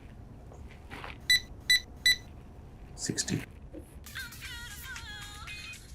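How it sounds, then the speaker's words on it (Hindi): A phone rings with three short, evenly spaced electronic beeps close by, followed later by a melodic ringtone, while people talk before and around it in an indoor setting. "मेरा फोन उठा लो ना प्लीज।"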